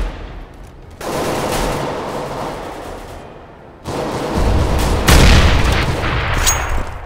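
Rapid automatic gunfire from Counter-Strike: Global Offensive, with dense bursts that start abruptly and then surge louder and heavier after a brief lull, loud and continuous.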